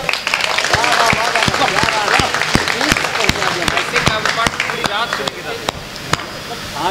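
An audience at a Hindi kavi sammelan poetry recital claps in a steady, rhythmic beat of sharp, loud hand claps, with voices heard throughout under the clapping.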